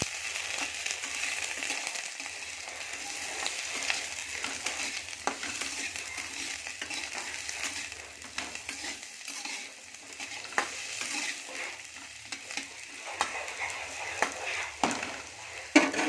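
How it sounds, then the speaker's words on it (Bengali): Potatoes and carrots fry together in a little oil, giving a steady, quiet sizzle broken by frequent clicks and scrapes of stirring, close and continuous with no talk. "এখানে অল্প তেল আছে, সেটাতে আমি সব আলু গাজরগুলো দিয়ে একসাথে ভেজে নেব।"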